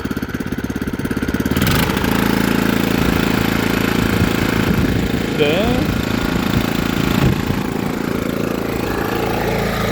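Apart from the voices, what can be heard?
Taekwang TKC450 used tiller engine running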